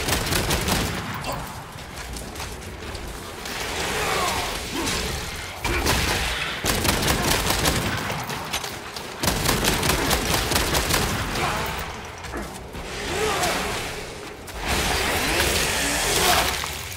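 Gunfire in the Warhammer 40k video game Space Marine 2, loud, dense bursts of shooting and explosive booms with a few brief pauses, no talking over it.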